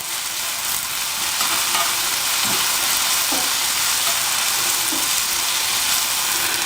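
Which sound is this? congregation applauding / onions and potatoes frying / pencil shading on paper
onions and potatoes frying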